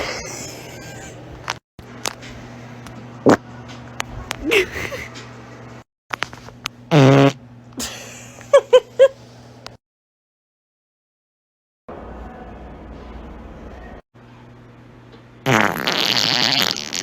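A fart rasps out in a short blast amid scattered clicks, scrapes and silent gaps, and there is talk in places.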